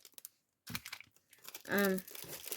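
Paper gift wrapping rustles and crinkles in irregular close bursts as a present is handled, with a brief voiced sound partway through.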